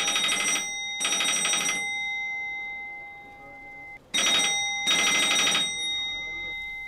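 An unanswered telephone rings in two pairs of bright electronic bursts, with a long pause between the pairs and a steady tone lingering in the gap.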